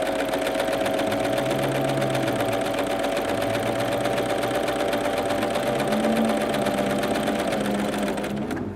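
A Pfaff Coverlock 3.0 overlocker sews a rolled hem, its motor running steadily in a fast even whirr with rapid needle ticking close by, alone and unbroken for nearly nine seconds.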